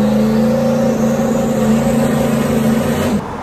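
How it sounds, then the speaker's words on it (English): A 1,000-horsepower single-turbo Mustang held on the trans brake for a night street pull, a loud, steady, buzzing engine roar close up that cuts off abruptly near the end. "So that's what it's showing on the launch with 4 pounds commanded on the boost controller."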